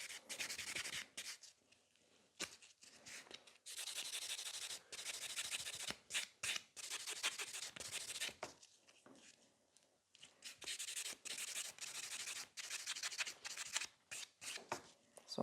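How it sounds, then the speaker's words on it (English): A buffer rubs over a porcelain nail tip in short, close scratchy strokes, repeating in bursts separated by brief pauses, fairly quiet and with no talking. "So I have buffed another tip."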